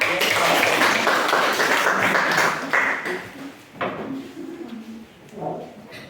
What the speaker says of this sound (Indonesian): Berikan tepuk tangan dulu nak